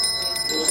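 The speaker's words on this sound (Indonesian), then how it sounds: "Dentingan genta Sang Sulingge memecahkan keheningan suasana upacara." A priest's handheld ritual bell, a genta, rings at a Balinese temple ceremony at Pura Dalem Tugu Gelgel in Klungkung, giving a brief, sustained bright metallic tone that is loud and close.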